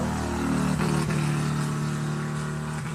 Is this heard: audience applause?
no